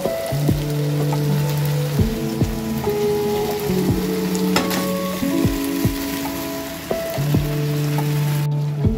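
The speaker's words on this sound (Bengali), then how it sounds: "এবার চিকেনটা দেওয়া হয়ে গেছে। এবার ভালো আমি ঢাকা দিয়ে আঁচ বাড়িয়ে আমি কষে নিচ্ছিলাম" Chicken fries with lightly browned onion, ginger paste and spices in a pan over raised heat, giving a loud continuous sizzle and crackle with a few stirring knocks under a soft musical backing.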